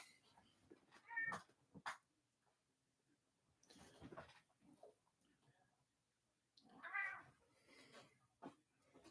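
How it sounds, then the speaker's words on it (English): A house cat meows twice, fairly close and clear, with a few faint voiced sounds and quiet room noise between the calls. "How you doing, Kitty"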